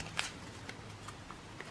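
Magic: The Gathering card deck being shuffled by hand at a table, a faint soft riffle with a few light card snaps, quiet and close with no talking.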